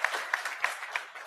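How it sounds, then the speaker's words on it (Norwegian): Short burst of scattered applause from a seminar audience clapping for a speaker, light and rhythmic with a few distinct claps, lasting only about a second. "Ja, vi får klappe litt for deg da"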